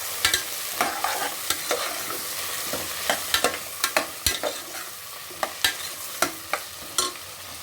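Tomatoes added to well-sautéed onions frying in a pan while being stirred, for a tomato kurma; spoon scrapes and clinks come in irregular bursts over a soft steady sizzle, close and clear, with no talking.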